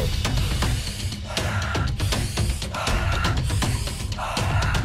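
Deep, forceful breaths through the nose during a DMT-release breathing exercise, loud rushing airflow coming in a few rhythmic surges close up, with no talking.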